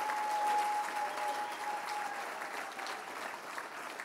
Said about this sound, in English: Let's give applause for Harmeet Dillon